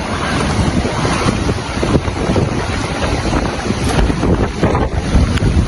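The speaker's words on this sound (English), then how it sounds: "It's windy." Strong wind from Hurricane Beryl in flooded Jamaica roars continuously, buffeting the microphone with heavy rumbling gusts, with no voices heard.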